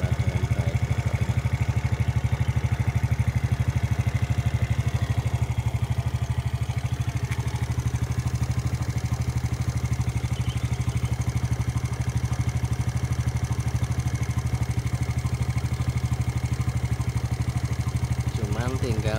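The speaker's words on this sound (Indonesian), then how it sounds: "Sudah menyala dengan baik motornya." A Suzuki Smash motorcycle with its original stock CDI idles steadily and close by, a continuous low engine drone with a slight rattling clatter from a worn side cover, running evenly with no voices.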